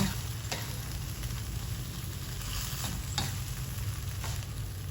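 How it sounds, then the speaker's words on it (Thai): Beef being stir-fried with oyster sauce in a hot pan, a steady close sizzle and low frying hiss running throughout, with a few brief scraping stirs of the spatula. "แล้วก็ผัดเข้าไปให้รสชาติมันเข้ากันกับเนื้อ"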